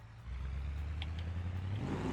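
A Gavril Roamer off-road truck in BeamNG Drive held at full throttle gives a low, steady engine drone that starts abruptly and holds without much rise in pitch.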